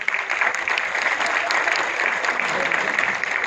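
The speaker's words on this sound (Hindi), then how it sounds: "मैं चाहता हूं गुलशन कुमार जी की स्मृति के लिए एक बार ये पूरा थिएटर तालियां बजाए" A packed theatre audience at a film trailer launch claps together in sustained, dense applause, steady and fairly loud from start to finish.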